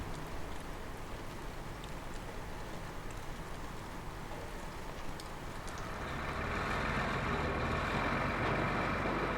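Tata 8-ton truck cab with the engine running: a dense, steady rumbling drone fills the cab throughout, swelling louder and rougher in the last few seconds, with no talk.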